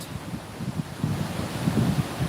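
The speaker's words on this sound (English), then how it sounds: "Or are you getting more wind than waves?" Wind gusts across the shore at Maryport as sea waves roll in on an incoming tide, a rough, surging roar with buffeting on the microphone and no voices.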